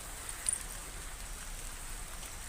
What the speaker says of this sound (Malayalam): മഴ പെയ്യുന്നുട്ടോ